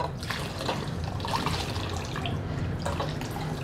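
Clean running water rinses an item after it has been scrubbed, a steady broadband splash and trickle with a few dripping accents, continuous and close, with no voices.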